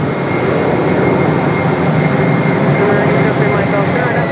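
A continuous, loud rumbling roar of an airliner's jet engines during landing at Raleigh Durham airport, a broad steady wash of engine noise holding evenly throughout, with a voice faintly present underneath.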